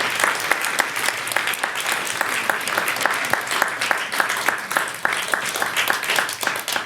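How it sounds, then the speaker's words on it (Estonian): Big round of audience applause at the close of an innovation conference, dense and steady clapping from a large crowd filling the whole stretch at even loudness. "vaadake kõik sinna taha, teeme üks suur aplaus."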